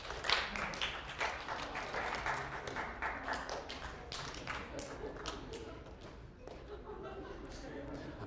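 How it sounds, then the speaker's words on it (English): Scattered audience clapping in a psychology lecture hall, claps popping up irregularly from different spots while people murmur and talk underneath throughout. "Could you clap when you see what's different between the two pictures?"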